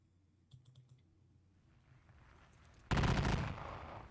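Gunfire crackles in a Napoleonic war video game: a few faint clicks, then a loud, dense burst of musketry volleys near the end, heard without speech.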